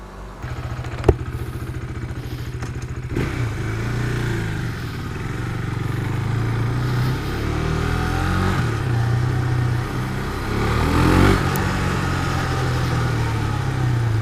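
A Husqvarna Vitpilen 401 motorcycle engine drones steadily while being ridden, its pitch rising and falling as the rider accelerates and shifts, close and fairly loud with wind rush and a few clattery knocks.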